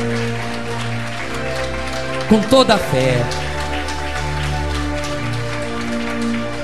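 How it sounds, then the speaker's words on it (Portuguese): A church congregation claps for God during a worship service, a dense steady patter of many hands sustained throughout, with sung or spoken voices and a musical backing over it. "dê uma salva de palmas ao nosso Deus"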